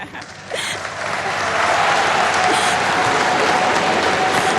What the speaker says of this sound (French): Vous l'entendez, au-delà de la salve d'applaudissements